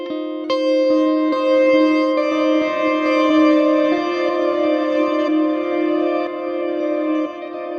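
Electric guitar run through a Line 6 Helix with a reverse delay placed after the amp and cab, sustained chords swelling and blooming backward with washy, echoing tails, loud and continuous without any voice.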